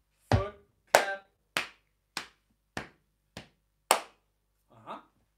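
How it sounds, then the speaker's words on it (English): A sequence of eight sharp body-percussion hits, alternating foot stomps and hand claps, spaced evenly about every half second in a quiet room, with a softer final sound. "Foot, nice. Foot, clap."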